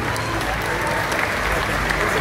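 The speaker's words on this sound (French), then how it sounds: "On peut l'applaudir." An audience at a darts final event applauds steadily, with a broad, even wash of clapping and faint crowd murmur throughout.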